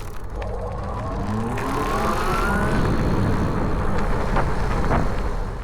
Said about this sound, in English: It sounds more like a spacecraft, if you will, compared to other hub drive motors.